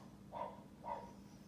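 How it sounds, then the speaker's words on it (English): A neighbor's dog barks outside, two muffled barks about half a second apart, distant and faint over a quiet indoor background. "And there's the dog barking outside."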